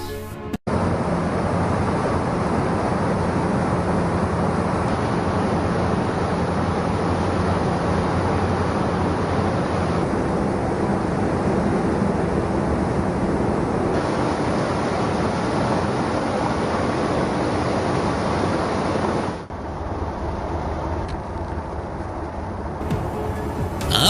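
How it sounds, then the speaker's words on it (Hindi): Salt being washed with high-pressure water on a vibrating conveyor in a factory: a constant, dense hiss of spraying water and machine noise, steady for the whole stretch and dipping slightly near the end. "इसके बाद एक वाइब्रेटिंग कन्वेयर पर इस नमक को तेज प्रेशर के पानी से धोया जाता है"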